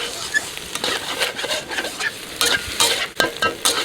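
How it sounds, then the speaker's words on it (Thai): Egg is stir-fried in a hot pan for a Thai drunken suki dish, with a loud, close sizzle and repeated scraping strokes of the spatula as it is stirred continuously. "รอให้ไข่เขาสุกอ่า แล้วก็ผัดผัดคนๆไปเรื่อย"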